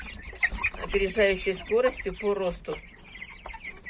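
Young Bresse Gauloise chicks in a pen cluck and cheep in quick bursts, close and clear, while someone talks over them.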